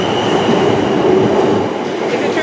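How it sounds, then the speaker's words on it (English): South West Trains class 444 electric unit arriving at Bournemouth station, a loud close rumble of wheels on rail with a sustained squealing tone, heard alone without voices. "following that will be the 1504 Southwest train service to Weymouth, which is coming in right now"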